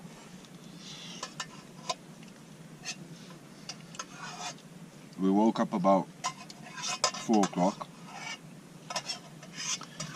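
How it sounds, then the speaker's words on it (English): Pots are scrubbed and clanked outdoors beside a brook on a winter camping morning, with metallic scraping and light knocks at close range, broken by brief speech. "Gonna go wash me pots"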